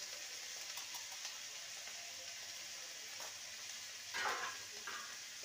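Poha being stirred with salt and turmeric in a frying pan makes a steady, close sizzle with soft scraping, brightening briefly near the end.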